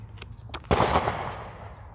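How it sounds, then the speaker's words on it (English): Firework exploding outdoors, a single sharp bang after a couple of soft knocks, followed by a rumbling decay that fades over about a second, heard from indoors at moderate distance. "I think it's a firework."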